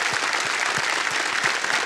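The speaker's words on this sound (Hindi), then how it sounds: "एक बार फिर तालियों के साथ उनका हम अभिनंदन करते हैं" A television quiz show studio audience applauds a contestant, continuous dense clapping at steady volume with no talk over it.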